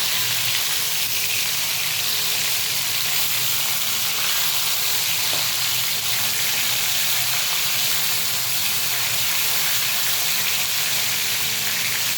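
Prawn-stuffed pointed gourds deep-fry in a pan of hot oil, giving a constant, close bubbling sizzle and hiss that stays even throughout with no voices.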